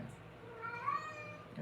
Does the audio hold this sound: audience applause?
no